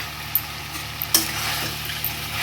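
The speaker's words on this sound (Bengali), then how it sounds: "একটু নাড়াচাড়া করে নিই।" A spoon is stirred through a pumpkin and potato curry with fried nuts in a pan, giving a few light scrapes and knocks over a steady, soft sizzle.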